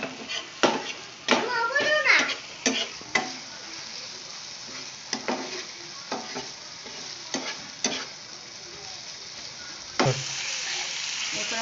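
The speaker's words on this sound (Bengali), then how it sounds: "ভালো করে মশলাটা ভেজে নেব" Spiced masala for a Bengali egg curry sizzles in hot oil in a home kitchen, with repeated spoon scrapes and stirring strikes over a steady frying hiss, close and fairly loud.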